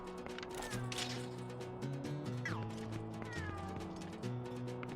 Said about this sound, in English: That was my cat right there.